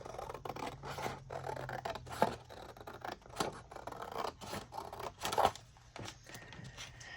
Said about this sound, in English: I'm going to cut this big one out first